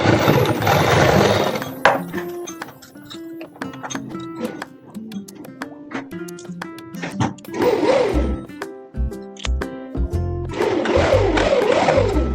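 Sewing machine stitching a suit, running in a few loud bursts at the start, middle and end, with a person talking and some tonal background sounds in between.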